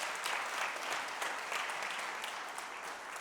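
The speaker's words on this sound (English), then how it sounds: "Let's give a round of applause to our staff." An audience applauds school staff at a district State of the Schools address, a steady dense wash of clapping held at even loudness throughout, with no voices over it.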